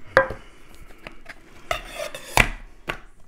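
A metal frying pan from a camping cook set is handled, giving a few sharp clinks and knocks spaced irregularly, close and fairly loud, with softer rubbing between them.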